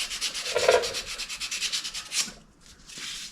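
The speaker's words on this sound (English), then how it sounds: "So use some light emery cloth" Light emery cloth rubbing surface rust off a metal part on a junkyard roadster chassis build, a soft scratchy back-and-forth scrubbing in a few quick strokes, close and fairly quiet.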